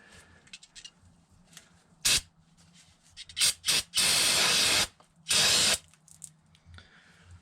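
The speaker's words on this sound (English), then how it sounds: "Spray it with a bit of brake clean." Several hissing bursts of aerosol brake cleaner while changing a Subaru's rear differential oil, two short ones followed by two longer sustained blasts, loud and close, with quiet handling noises between.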